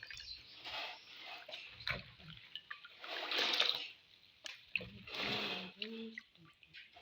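Water poured from a container to measure out 500 ml while making palm oil bar soap, a soft, uneven trickle and splash that swells and fades in short pours, fairly close and quiet.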